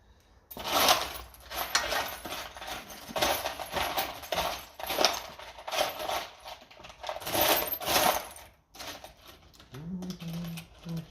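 Small metal parts and a washer rattle and clink as they are picked through while working on a 1957 Ferguson FE35 TVO tractor, close irregular jingling bursts with a brief low hum near the end.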